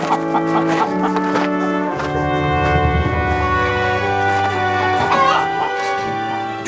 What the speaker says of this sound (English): Poultry historian Fred Hams has come to take away the chickens.